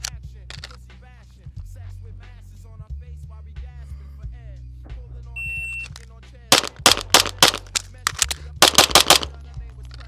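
Pistol shots fired at steel targets in a timed drill, with sharp bursts of rapid shots clustered in the second half, a shot-timer beep earlier, and faint talk underneath at the start.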